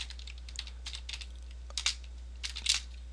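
Keys on a computer keyboard are tapped in quick, uneven clusters of light clicks, with a couple of sharper, louder strokes near the end, heard alone at a modest, close level.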